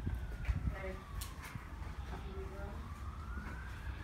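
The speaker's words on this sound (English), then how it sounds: "because I hear sirens, just in case" Distant fire department sirens wail in rising and falling sweeps over faint outdoor background noise near an abandoned motel in Vernal, Utah.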